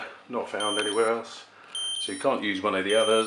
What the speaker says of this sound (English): That's my alarm clock going.